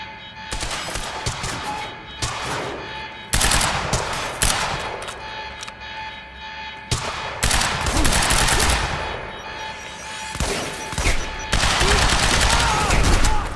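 Heavy gunfire in the video game Quantum Break, dense automatic bursts and rapid shots rattling almost continuously, loud and close, with short lulls between volleys and a busy combat backdrop.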